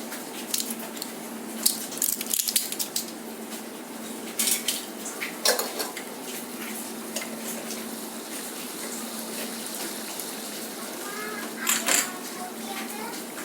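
Sweet and sour crab is stirred in an oily pan at home, with scattered clinks and scrapes of a utensil against the metal over a steady sizzle, and a voice talking at times.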